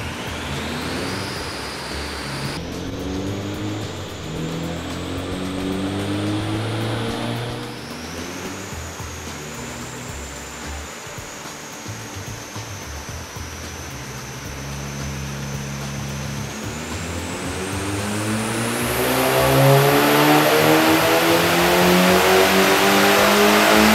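Car engine with variable cam control on a dyno power run, a loud sustained engine note climbing steadily in pitch through the revs, surging harder toward the end, with no talk.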